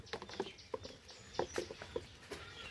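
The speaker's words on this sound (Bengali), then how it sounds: "বৃষ্টি হচ্ছে" Soft, uneven patter of raindrops tapping nearby, faint and scattered over a quiet background hiss.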